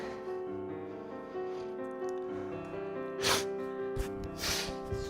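A few short, breathy sniffs during a workout stand out against steady background music, coming in quick bursts near the end.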